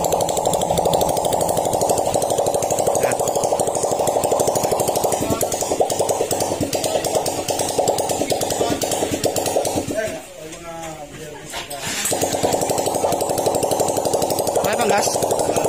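A motorcycle engine runs steadily after a wiring repair, a loud close buzzing idle under talking voices, dipping and stumbling briefly as if about to stall before picking back up.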